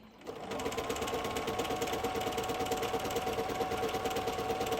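A sewing machine with a free motion foot stitches a thread cord, its needle running in a fast, steady, even mechanical rhythm close up after a brief start, without pause.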